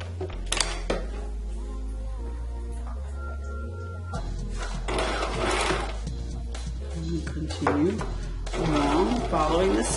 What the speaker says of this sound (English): Following the seam allowance and guiding the fabric to stay along that half inch mark on the machine.